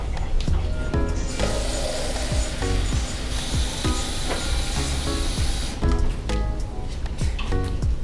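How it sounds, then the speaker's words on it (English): Steam hisses steadily from a big pot of water holding a smaller covered pot of moi moi, a broad continuous rush with clatter and knocks of cookware over it, and some talk in the background. "It's the steam that actually cooks your moi moi."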